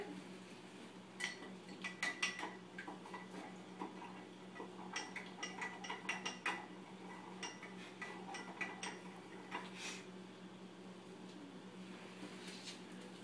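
A spoon taps and clinks against a dish while stirring a sodium carbonate detergent solution, light, irregular ticks and scrapes, faint and close over a low steady hum.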